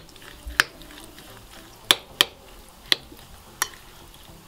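A spoon works through two eggs, salt and grainy mustard in a bowl, a soft wet churn broken by sharp clinks of metal on the dish, six or so taps at uneven intervals, close and clear with no talking.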